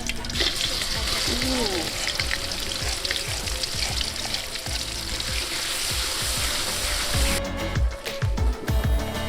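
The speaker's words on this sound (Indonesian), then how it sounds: "Waktunya menggoreng bumbu." Steady, loud sizzling of spice paste frying in a hot pan, a dense crackling hiss with scattered pops and clinks throughout.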